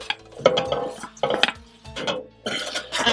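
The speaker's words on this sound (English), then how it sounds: "and add the 2 tablespoons of oil, 1 and 2. And now add my meat." Meat is dropped into hot oil in a pot for a creamy mushroom stew, with several close bursts of sizzling and clattering utensil-on-pot scrapes in irregular clusters, no talk.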